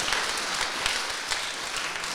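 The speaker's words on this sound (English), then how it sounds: "Round of applause for that" A short burst of steady applause from the audience at the Barnes Fragrance Fair 2025, a dense, even patter of clapping with no voices over it.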